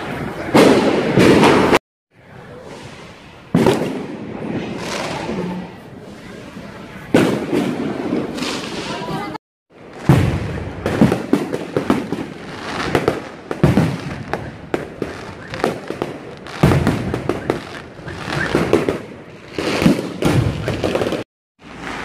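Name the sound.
fireworks exploding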